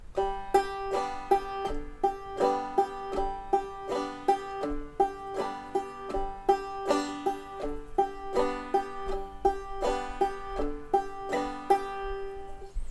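Double thumbing exercise on a banjo, alternating between the third and fourth strings: a steady, even stream of plucked notes with a rolling rhythm, played alone at moderate loudness.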